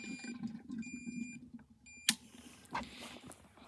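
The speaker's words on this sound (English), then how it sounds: "it'll start beeping when it's ready." A device used while filling a dirtbike with gas and held upright gives off a thin, steady electronic beeping. A sharp click near the middle is followed by fainter rustling.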